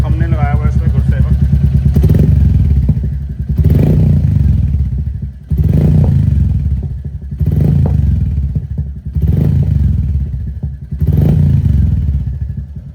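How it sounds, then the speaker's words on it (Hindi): A Royal Enfield Meteor 350 fitted with a slip-on muffler and a stage 2 air filter cap gives about five loud, close throttle blips. Each blip rises sharply and then falls back to a rumbling idle. "अब मैं आपको दिखाता हूँ, सुनाता हूँ बाइक के एग्जॉस्ट की आवाज़"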